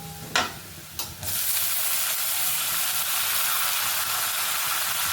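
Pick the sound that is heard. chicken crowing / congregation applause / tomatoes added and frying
tomatoes added and frying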